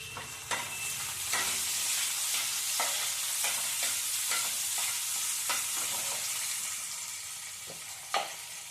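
Tomato and cauliflower stems stirred together in a hot pan give a continuous close sizzle, punctuated by a series of sharp scraping strokes from a spoon, with a louder clack near the end and no voices.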